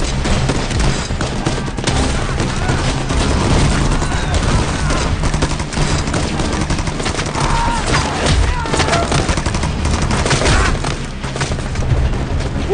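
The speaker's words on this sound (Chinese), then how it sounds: "射击！" Rifle volleys and machine gun fire crackle in a war film battle scene set during the anti-Japanese war, a loud, sustained barrage of overlapping shots and booms with no pause.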